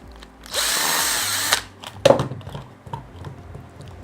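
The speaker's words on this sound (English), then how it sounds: "I'm going to take off the 2 screws there." A power drill unscrewing screws from a ZD Racing Thunder B-10E RC car, one loud sustained whir of about a second followed by a short second burst, close up with no talking.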